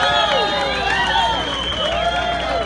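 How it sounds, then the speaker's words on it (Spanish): A crowd at a Huelga de Dolores comedy show in Los Angeles claps and cheers for the DJ, with whistling and music-like tones running over the noise. "Denle un aplauso al DJ"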